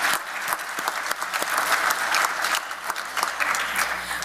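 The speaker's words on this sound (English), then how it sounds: "So a round of applause for our sponsors." Enthusiastic clapping from an audience at an awards ceremony, dense and steady throughout with scattered louder claps, no voices.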